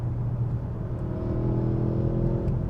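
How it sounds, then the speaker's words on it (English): A 2022 Audi S8's twin-turbo V8 pulls smoothly under acceleration in dynamic mode, a steady low engine drone with a gently rising whir heard from inside the cabin, with no talking. "that power delivery from that twin-turbo V8 is just so smooth"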